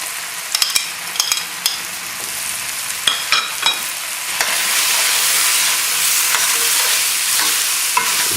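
Turkey medallions sizzling in a pan with peppers, broccoli and squash, a loud steady fry with scattered stirring clatters early on, then a denser, even sizzle that swells and holds through the rest.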